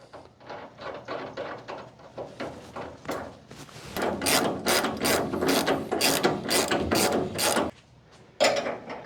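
A hand ratchet tightens the coilover nut on a 1966 Ford Mustang, with rapid repeated clicking strokes in bursts, close and loud, separated by a short pause near the end.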